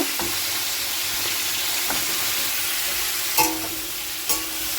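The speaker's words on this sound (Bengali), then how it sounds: "আর এইদিকে আমার মাছ ভাজাটাও এক পিট হয়ে গেছে" Dorade fish frying in a pan gives a steady, moderate sizzle, broken by two brief utensil knocks near the end.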